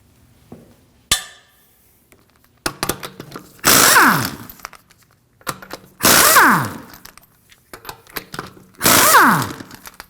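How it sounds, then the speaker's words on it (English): Three loud bursts from an impact wrench spinning lug nuts off the rear wheel of a 2016-2022 Honda Pilot with a 22mm socket, each about a second long and separated by short clanks and tool handling. "we can remove the lug nuts with a 22mm"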